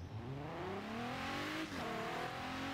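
A Maserati revs hard and pulls through rising gear changes in a street race, its engine pitch climbing, dropping and climbing again, loud and close throughout.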